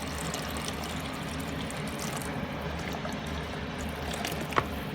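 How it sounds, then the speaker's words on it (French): Water poured into a cooking pot while making a Senegalese rice and chicken dish, a steady, close splashing pour that runs continuously, with a small clink near the end. "j'ajoute de l'eau."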